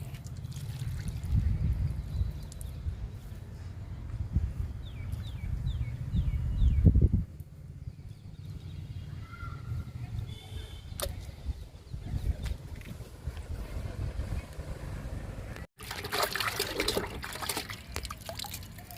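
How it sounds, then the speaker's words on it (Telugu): Homemade sweet potato liquid fertilizer is poured from a container onto a garden plant, a low gurgling splash for several seconds that stops abruptly, followed by quieter trickles and small handling noises. "జామ మొక్కకి ఇచ్చేద్దాము గెనిసిగడ్డ లిక్విడ్ని. పోస్తున్నానండి డబ్బాలో."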